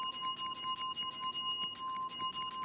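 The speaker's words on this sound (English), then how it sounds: "Can I ding the bell?" A front desk bell dinged over and over in quick succession, each bright metallic ring sustaining a clear tone as the strikes pile up close by.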